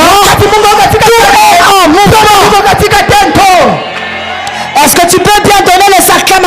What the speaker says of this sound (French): Est-ce que tu peux bien donner les acclamations?